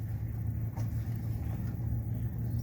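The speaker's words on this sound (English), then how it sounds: "That's just a little drive through the RV area and the tent area of Davis Mountain State Park" A car rolls slowly through the RV and tent camping area of Davis Mountains State Park near Fort Davis, Texas, giving a steady, low engine drone and road rumble with no talking.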